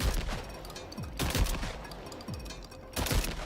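Shotgun fitted with a grenade launcher in Death Stranding 2, firing in a rapid volley of sharp booming blasts with rolling echoes, several loud bursts spaced across a few seconds.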